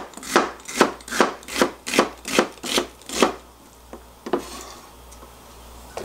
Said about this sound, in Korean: 호박 같은 거 있으시면 좀 썰겠습니다